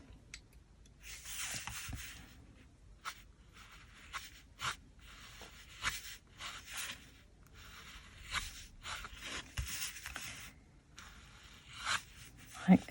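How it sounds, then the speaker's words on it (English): Ink pen scribbling loosely over a pencil drawing of a coneflower on paper, close, scratchy strokes coming in short bursts with pauses between them. "So I'm just going to go over this pencil drawing like this, loose"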